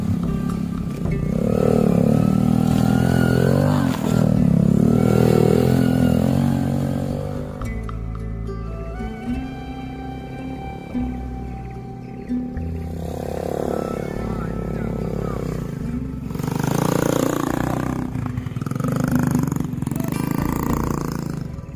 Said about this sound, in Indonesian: Jalan berliku di lahan perkebunan membuat kami harus benar-benar ekstra kuat menahan goncangan motor yang kami